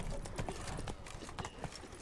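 Roach the horse's hooves pound at a gallop in The Witcher 3, quick repeated strikes that sound close and full under a busy background.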